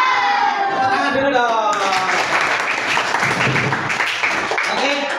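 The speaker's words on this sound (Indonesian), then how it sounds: "Tepuk tangan dulu" Fourth-grade children clapping their hands together in a classroom, loud and close, after a few seconds of their voices.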